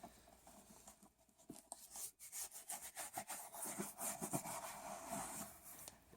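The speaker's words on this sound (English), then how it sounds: "just gonna take my brush and brush off as much dirt and sand off as I can" A stiff brush scrubbing dirt and sand off outdoor gear, working into the nooks and crannies, with steady close rasping strokes repeating in an uneven rhythm over about six seconds.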